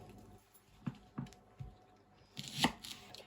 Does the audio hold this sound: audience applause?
no